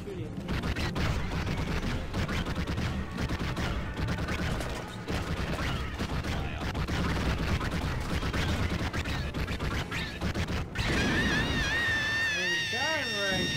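Rapid video game gunfire from a first-person shooter rattles steadily for about eleven seconds under constant speech from several players, and then a whining electronic tone takes over near the end.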